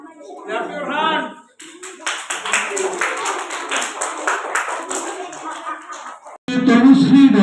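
Children at a school prize distribution clap their hands in a dense burst of rapid, close claps lasting several seconds, with an announcer speaking before and after.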